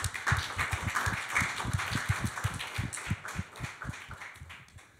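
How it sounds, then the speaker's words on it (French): Audience applause at a French talk on the Gömböc, a steady patter of many hands clapping at moderate distance that slowly fades out over about five seconds. "Donc, euh, applaudissons ceux qui font ces objets."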